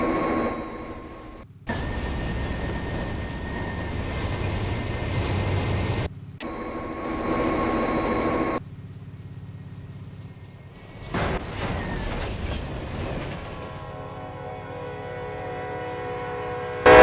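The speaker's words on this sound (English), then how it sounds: "let's wait for the train to spawn." A train arriving in a video game, a steady rumbling rail sound that cuts in and out, then shifts to a thinner tonal hum near the end.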